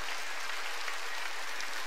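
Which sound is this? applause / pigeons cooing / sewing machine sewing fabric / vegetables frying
applause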